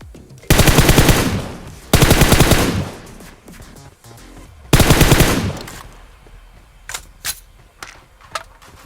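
Automatic gunfire from PUBG Mobile on the Livik map: three loud, dense bursts of rapid fire, each roughly a second long, followed by a few sharper, quieter single shots.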